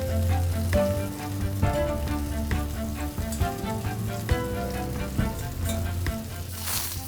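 Quartered red onion with its skin on chars in olive oil over a high flame, giving a steady, loud, close sizzle with crackling pops and no talk.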